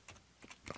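Quiet keystrokes on a computer keyboard while entering a MATLAB command to connect to a Raspberry Pi, three short clusters of taps spread over less than a second.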